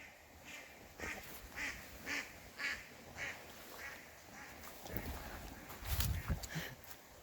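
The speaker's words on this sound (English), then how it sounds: "a couple of ducks" Several ducks quack in short repeated bursts at a moderate distance, with some outdoor background noise.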